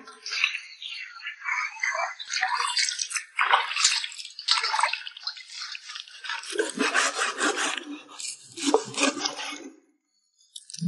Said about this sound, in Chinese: 把这牛尾巴洗一下。